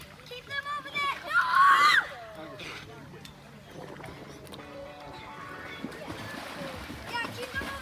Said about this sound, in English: That dog can swim.